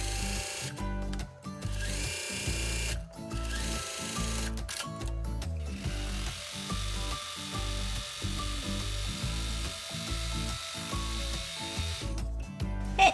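A sewing machine stitches the center seams of a V-neck T-shirt, running fabric through with the seam allowance pressed open. It makes a steady, close mechanical whirr of rapid needle strokes, with brief pauses and restarts and no voices.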